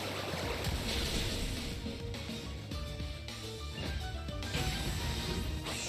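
A Water Pulse attack in Pokémon Legends: Arceus surges as a dense, continuous watery rush with splashing crashes, loud and steady throughout the clip under a layer of game music.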